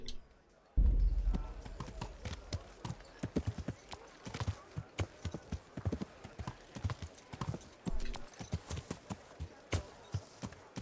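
Horse hooves clip-clopping in the video game Kingdom Come: Deliverance, a close, brisk, irregular trotting rhythm with a faint whinny, continuing under occasional speech.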